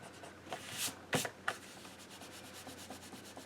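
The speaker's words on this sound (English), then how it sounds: "I'm just going to erase my pencil lines." An eraser rubs out pencil lines on a paper agenda page in quick scrubbing strokes, close and soft, with a few sharper rubbing bursts early on and a steady faint friction texture throughout.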